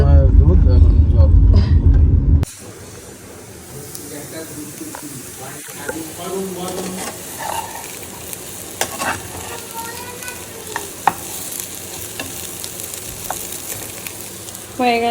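Potatoes frying with poppy seeds in a home kitchen, giving a steady close sizzle and occasional stirring clicks after a brief louder opening, with people talking over it.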